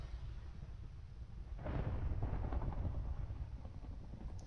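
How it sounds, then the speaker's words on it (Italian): Thunder in Minecraft, heard while mining underground: a faint, low rumble swells about a third of the way in and rolls on quietly, muffled and distant, until the end. "Ma non è strano che si senta il rumore dei tuoni in miniera"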